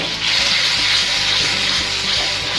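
Vegetables with soy sauce and black pepper are stirred in a hot pan for stir-fried thenthuk, giving a steady close sizzle and scraping rustle that lasts throughout.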